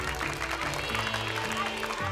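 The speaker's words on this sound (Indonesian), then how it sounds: "Boleh tepuk tangan untuk tantangan kedua supaya semangat semuanya" An audience at a Quran recitation contest claps in a soft, continuous patter under steady background music with sustained low tones.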